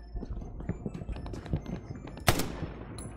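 Machine gun fire in a video game crackles in quick, uneven bursts, with one louder, sharper blast standing out near the end before it trails off.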